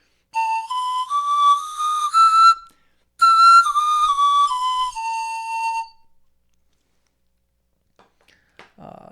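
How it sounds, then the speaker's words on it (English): A Jorvik replica panpipe in Castello boxwood plays a major scale up and then back down, with clear breathy whistling notes, close and alone, followed by a few faint handling sounds. "this is what the major one of the Castello boxwood sounds like"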